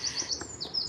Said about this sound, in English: I hope you can hear the birds chirping.